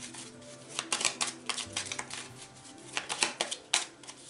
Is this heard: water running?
no